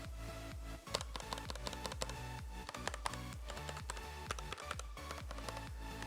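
Rapid, steady typing on a cheap £20 keyboard, keys clacking close up with a slightly hollow, plasticky tone.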